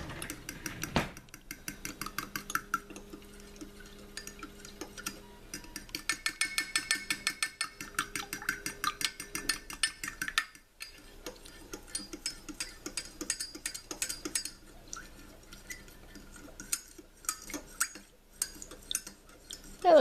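A fork whisks and mixes ingredients for keto chicken stroganoff, producing rapid rhythmic clinking and scraping against a dish in repeated bursts, near and moderately loud, with short pauses.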